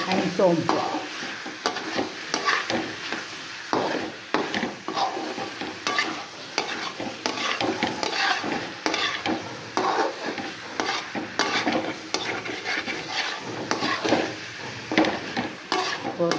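Chicken frying in a pan with a ground green chilli, curry leaf, pepper and garlic powder, steady sizzling under repeated scraping and stirring strokes of a spoon, close and continuous.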